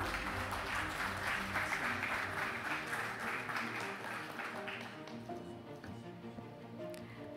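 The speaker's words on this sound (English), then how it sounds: "A round of applause, ladies and gentlemen." Applause from a conference audience at a banking and finance association's annual meeting, a steady broad wash of clapping that stays fairly even throughout before thinning slightly toward the end.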